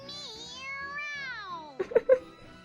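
Voice actor imitating a cat in a Tales of Berseria video game scene: a long drawn-out wavering meow followed by a few short sharp meow-like bursts, set over a soft sustained musical background.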